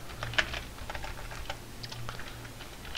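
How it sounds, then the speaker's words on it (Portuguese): Quick, light keystrokes on a computer keyboard while typing a command in an Ubuntu Linux terminal, a steady irregular patter of close clicks throughout with no talk. "Vou digitar de novo aqui."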